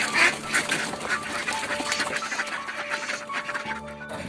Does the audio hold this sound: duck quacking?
yes